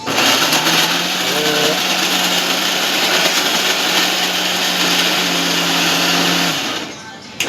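Fried dough for laddoos churns inside a kitchen mixer grinder, whose close, loud motor drones evenly for several seconds and then winds down and stops.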